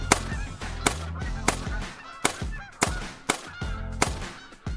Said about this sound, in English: Got some geese flying overhead.